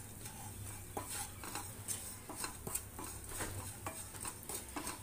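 Bread halwa roasting over a low flame, stirred in a pan with a spoon: repeated scraping clinks against the metal pan over a soft sizzle, close and fairly quiet, with no talk.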